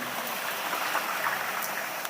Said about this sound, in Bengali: দেখেন কি পরিমাণ বৃষ্টি হইতেছে, সাথে বাতাসও প্রচুর, বাতাস হইতেছে অনেক।